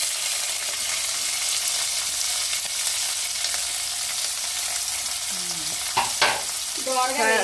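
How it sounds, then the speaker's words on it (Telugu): Onions and green chillies fry in a pan for a village-style brinjal and green pea curry, a steady broadband sizzle throughout with a few stirring scrapes and clinks near the end. "ఇందులో ఉల్లిపాయ పచ్చిమిరపకాయలు"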